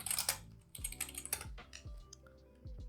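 Keys clack on a computer keyboard as a command is typed, a quick irregular run of close, crisp taps, some with a soft low thump.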